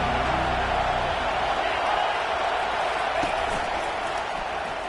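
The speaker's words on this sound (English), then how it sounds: "This crowd bringing an ear-splitting welcome to their visitors" A packed football stadium crowd roars a loud, steady welcome at a Penn State versus Florida State game, a dense wash of cheering that holds at the same level throughout.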